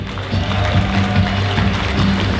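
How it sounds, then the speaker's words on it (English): Wedding guests at a reception clap together for the families of the bride and groom, loud, close and continuous throughout. "Round of applause for everybody."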